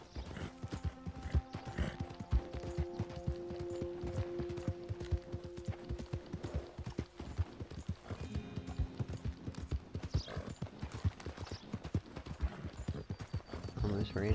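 Horse hooves clip-clopping in a video game, a steady rapid trot of hoofbeats throughout, with a person talking over it.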